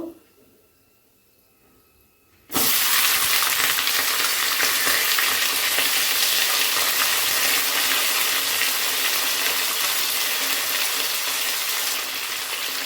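Vegetables frying in a pan for a Bengali spinach curry with milk: after a quiet start, a loud, steady hiss of sizzling oil bursts in and continues, close and unbroken.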